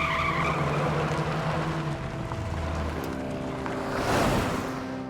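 Jeep engine rumbling steadily as it drives toward a mine in a Hindi-dubbed action movie scene, with a swelling whoosh near the end and no speech.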